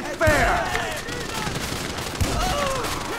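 Gunfire in Grand Theft Auto V during a heist shootout, two heavy shots standing out over continuous battle noise and distant firing, with voices faintly underneath.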